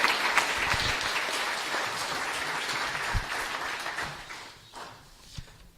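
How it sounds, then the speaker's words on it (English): A church annual meeting congregation claps for the graduating class, a dense round of applause that thins and fades toward the end with a few scattered claps. "let's have a round of applause for everybody part of the class of 2022"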